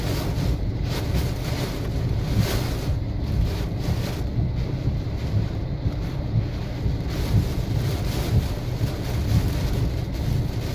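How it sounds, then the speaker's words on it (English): Violent wind gusts from Tropical Cyclone Debbie roar without a break, buffeting the microphone with loud, steady turbulent noise that swells in surges, with no voices heard. "Violent wind gusts."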